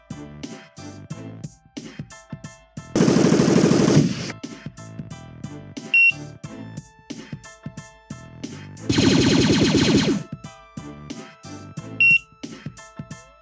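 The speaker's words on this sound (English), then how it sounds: "You need to shoot a target." Towers in Roblox Tower Defense Simulator fire at a target: two long, loud bursts of rapid automatic gunfire stand out over busy game music, with short sharp beeps between them.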